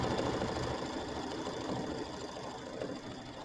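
Sewing machine stitching a Kimberbell mini quilt block, a steady, continuous mechanical whirr with a fast needle rhythm running close and loud throughout.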